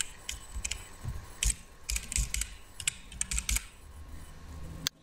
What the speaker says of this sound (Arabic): نكتب كلمة السر